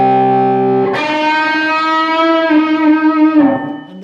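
Distorted electric guitar playing a solo, soaked in delay and reverb; sustained bent notes ring out with vibrato, fairly loud and alone, trailing off in echoes.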